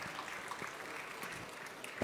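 An audience applauding finalists at a regional burger cooking competition final, a faint, steady patter of many hands clapping throughout, heard from a distance with a few louder claps standing out.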